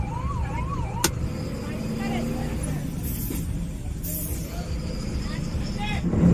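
A police jeep siren wails in a rising and falling pattern briefly, then fades, amid night-time road traffic noise and people talking nearby.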